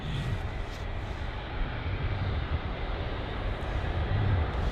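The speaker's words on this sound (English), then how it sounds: "this Turkish Airlines A380" A Turkish Airlines Airbus A380 at London Heathrow gives a steady, loud, broadband jet roar with low rumble, sustained and fairly close throughout, with no talk.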